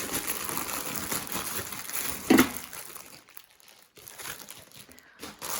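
A parcel package is opened, its plastic wrapping crinkling and rustling up close in irregular bursts, with one sharp crunch and brief quiet gaps, no talking.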